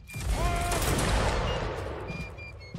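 Gunfire from several firearms after a firing command, a broad sustained burst of shots lasting about two seconds and slowly fading, loud and fairly close, with no talk over it.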